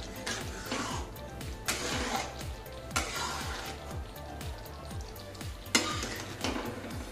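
Besan halwa fries in a pan of ghee while a spoon stirs it slowly and steadily, giving a constant sizzle under a rhythmic scraping of the spoon against the pan bottom.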